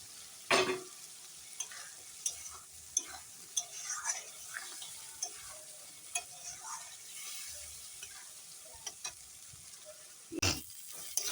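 Potatoes sautéed with spices in a pan for a fish curry, a faint low sizzle broken by scattered spatula scrapes and taps, with a couple of louder knocks near the start and end.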